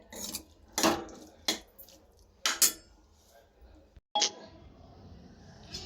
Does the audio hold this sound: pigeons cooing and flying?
no